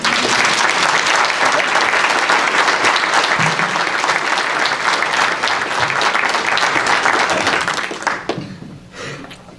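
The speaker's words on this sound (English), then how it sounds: "So give a big round of applause to Lisa Jewell." Loud, sustained audience applause at an awards ceremony for school staff, dense steady clapping that carries on for several seconds before fading out near the end.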